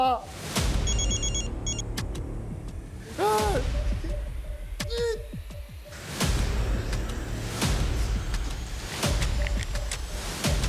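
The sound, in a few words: telephone ringing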